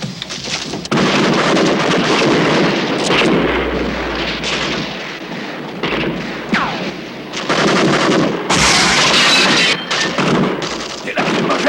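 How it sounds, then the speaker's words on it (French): Grenade blasts and gunfire from a 1988 French action thriller TV film, loud heavy booms and crackling shots filling the scene almost continuously, with voices shouting over the din. "Ils ont des grenades!"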